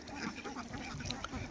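Penned ducks on a duck farm in Chalan Beel quack in short, scattered calls at moderate distance over a brief stretch, with a low murmur of background noise.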